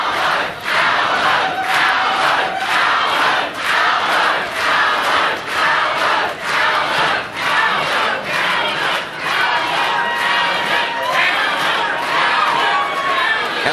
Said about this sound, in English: Here we go, the chant's on for Albo.